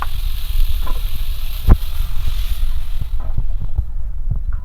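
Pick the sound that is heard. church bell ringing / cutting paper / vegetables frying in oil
vegetables frying in oil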